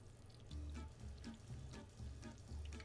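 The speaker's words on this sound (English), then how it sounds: "it's time to drop in the guanciale into the fry pan and add some peppercorns" Guanciale and peppercorns frying in a pan give a steady, close sizzle with regular swelling crackles.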